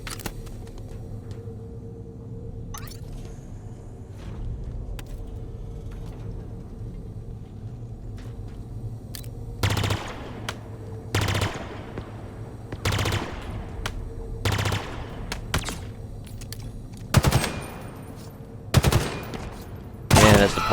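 Battle rifle gunfire in Halo Infinite, a series of sharp three-round bursts spaced a second or two apart over a low game rumble, getting more frequent toward the end.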